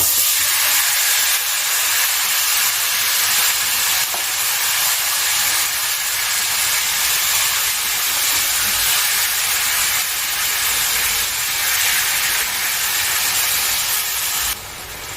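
Marinated chicken meat dropped into a hot pan for a papaya and potato chicken curry, giving a steady, loud, continuous sizzling hiss that holds throughout with no talking.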